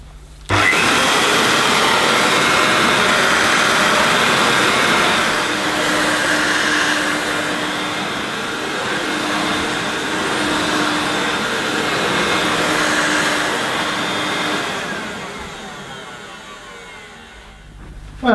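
A Hoover S2095 Quick Broom II mains-powered stick vacuum cleaner switches on abruptly and runs with a loud steady whirring drone, then winds down over the last few seconds before stopping.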